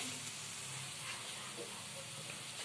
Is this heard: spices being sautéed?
yes